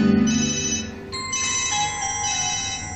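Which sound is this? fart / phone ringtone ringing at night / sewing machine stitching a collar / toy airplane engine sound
phone ringtone ringing at night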